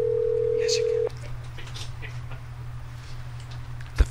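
A telephone line on a call gives a steady tone, then faint ringback with a soft tick, heard under quiet background noise, ending in a sharp click.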